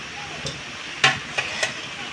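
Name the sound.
stirring spices with ginger powder in a pan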